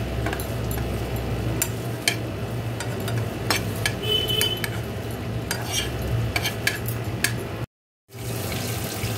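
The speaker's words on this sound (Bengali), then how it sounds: "এবার আস্তে আস্তে করে নাড়বো।" Green chili pickle stirred and fried in a pan, with continuous close sizzling and repeated scraping clinks of a spoon against the pan, steady throughout.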